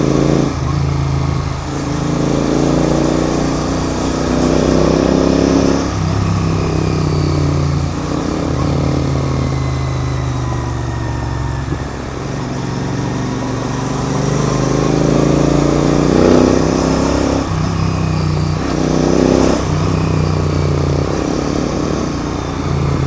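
Motorcycle engines of a Royal Enfield GT 650 and a Jawa Bobber running close by, a steady throbbing idle with repeated revving swells throughout.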